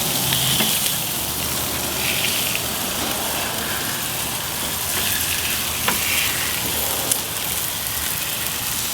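Food sizzles loudly on a hot grill running at medium heat, a dense, steady crackle and hiss heard up close with a few sharper pops scattered through it.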